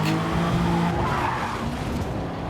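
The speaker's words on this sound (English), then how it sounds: "I'm going to clip that wall coming out of the final corner onto the start-finish straight." A race car in Gran Turismo Sport skids and scrapes hard, with loud, continuous tyre and engine noise that eases slightly toward the end.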